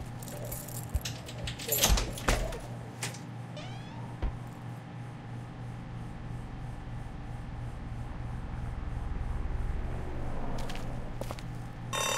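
Keys jangling in The Walking Dead game, a cluster of bright metallic jingles and rattles early on, fairly close, then fading into a low ambient hum with a few later clinks.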